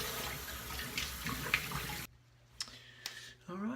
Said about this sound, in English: All right, so we're going to rinse up.